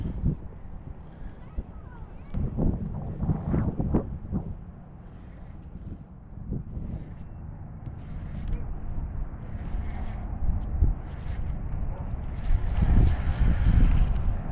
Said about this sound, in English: The wind has picked up and the temperature is dropping by the second.